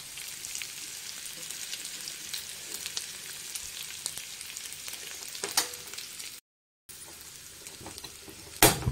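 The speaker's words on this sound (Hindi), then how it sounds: "ज़ीरा मैंने डाल के भून लिया है, इसके बाद हम सूखे मसाले ऐड करेंगे।" Cumin and dry ground spices fry in hot oil in a pan for matar paneer, a loud close continuous sizzle with crackling bursts, briefly cut to silence near the end before a sharp stir or clatter.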